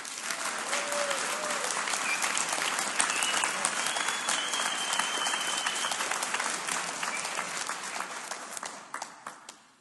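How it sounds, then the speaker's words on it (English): An audience at a Philadelphia presentation claps loudly and steadily for several seconds, then the applause thins into scattered claps and fades out. "Just give me an applause for how you feel."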